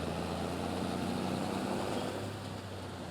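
A tractor engine idles in a farming and fishing video game, a steady low droning rumble held evenly throughout, close and without talk.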